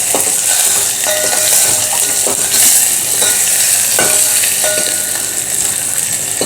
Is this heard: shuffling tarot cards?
no